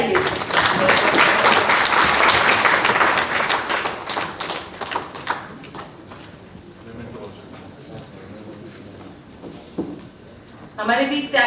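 Audience at a Hindi conference breaks into loud sustained applause that swells, then thins out into scattered claps and quieter room noise, with a brief burst of clapping returning at the end.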